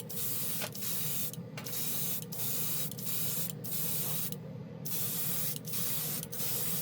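Airbrush spraying red paint through a 0.3 nozzle onto a spoon, a steady close hiss broken by several brief pauses as the trigger is released and pressed again.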